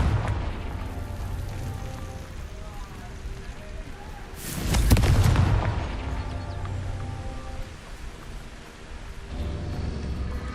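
A Confringo fire spell bursts in Hogwarts Legacy, a sudden booming blast that swells and fades over about a second, set against a steady rumbling, rain-like game ambience.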